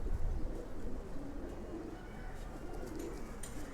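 Silver pigeons on a rooftop coo softly, low murmuring calls under a constant noisy background, with some faint higher sounds toward the end.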